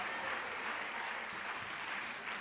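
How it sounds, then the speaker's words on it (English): An audience applauds a school band after its UIL contest march at a spring concert, steady dense clapping filling the hall at a moderate, somewhat distant level with no talk over it. "Let's give them a round of applause for an outstanding job on their UIL contest."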